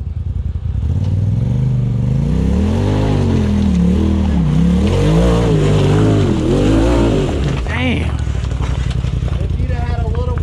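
An off-road vehicle climbs Trail 39, Cadillac Hill, at Windrock. Its engine revs up and down in loud, close, swelling surges with some clattering over rough ground.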